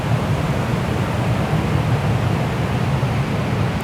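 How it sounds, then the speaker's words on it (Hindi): Water rushes steadily through a mountain gorge beside a cave near Radium, British Columbia, a continuous broad roar with no voices over it. "बहुत ही रिलैक्सिंग पानी की आवाज़ यहाँ पे पहाड़ों के बीच में जाता हुआ।"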